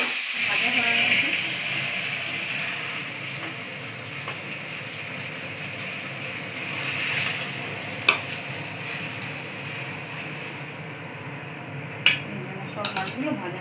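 Pomfret fish fry in a pan with a steady, moderately loud steamy hiss, interrupted by a couple of sharp clinks of a utensil against the pan near the end.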